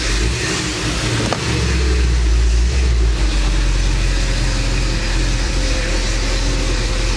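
A 1955 Chevrolet Bel Air convertible's engine idles steadily just after a cold start, a loud, continuous low rumble with no talking.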